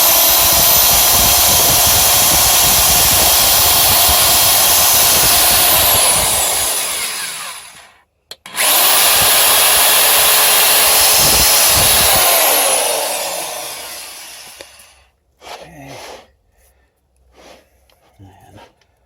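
A power drill drilling a hole while building a virtual pinball machine whines loudly and steadily for several seconds, cuts out briefly, then runs again before stopping, leaving a few faint clunks.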